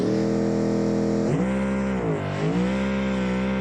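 A race car in the BeamNG driving game revs hard to heat its tires, a loud, steady engine drone that dips in pitch twice and climbs back.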